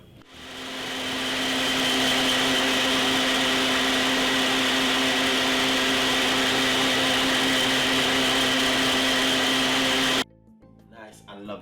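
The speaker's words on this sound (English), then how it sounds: "we're gonna blend this for roughly about 3 to 4 seconds" A countertop blender whirs through a Caribbean healthy drink, its motor spinning up and holding a loud, steady roar for about ten seconds before cutting off abruptly into near silence.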